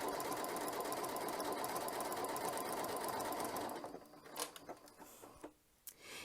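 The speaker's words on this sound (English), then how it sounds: "it's going to go back and it's doing a lovely zigzaggy buttonhole" A Janome Continental M7 sewing machine stitches a zigzag stretch buttonhole, running in a steady rapid needle chatter for about four seconds, close and loud, then stopping and leaving only soft handling clicks.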